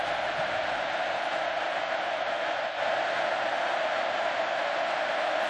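A stadium crowd at an LSU vs Texas A&M college football game keeps up a steady, loud, distant roar, a constant wash of thousands of voices without pauses.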